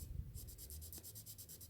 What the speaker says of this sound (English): tracing it with a hard pencil